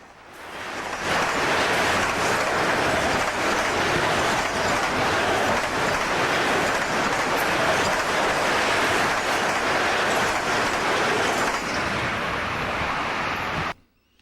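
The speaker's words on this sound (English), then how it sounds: "As the Bowden Yard St. Augustine local slowly rolls north through Magnolia Siding, number 105 charges by at 12:33 p.m." An FEC freight train, number 105, charges by at speed through Magnolia Siding in Florida, a steady loud roar of rolling wagons and rumbling wheels holding for about thirteen seconds before cutting off abruptly.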